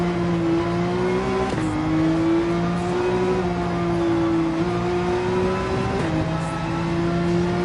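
Race cars including a Ferrari scream around the Sardegna circuit in Gran Turismo 7, a loud continuous engine whine rising with speed, dropping sharply at two gear shifts before climbing again.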